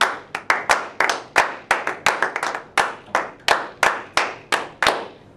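Rhythmic hand clapping exercise in a music lesson, sharp individual claps in a steady counted pattern with some quicker pairs, close and distinct with brief gaps between.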